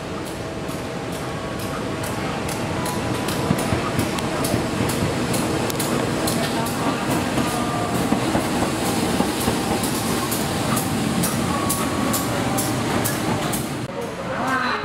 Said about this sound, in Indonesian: di jor 6-nya masuk lokomotif pulang depo